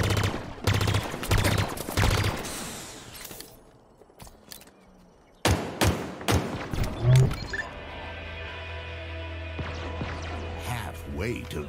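Bursts of gunfire in a Halo match, with sharp repeated shots in clusters that stop for a quiet stretch and then pick up again under game effects and a steady hum.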